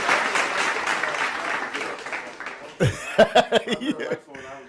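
A burst of applause from a small group, dense clapping for about three seconds that thins to a few scattered claps mixed with laughter and voices.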